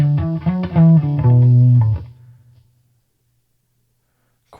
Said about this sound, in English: extreme lead